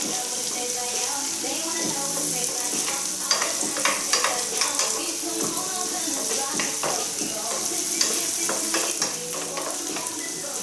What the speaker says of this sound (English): Stir it right in.